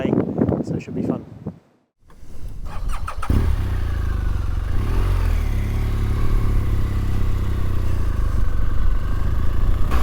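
Motorcycle on a mountain pass road in South Africa: after a brief lull, the engine starts and pulls away, then holds a loud, steady drone close by with wind rush, following some talk at the start.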